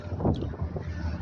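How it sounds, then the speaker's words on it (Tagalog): Strong wind gusting against a microphone outdoors, a steady low roar and buffeting with a brief louder gust near the start, close and fairly loud throughout. "Malakas po ang hangin"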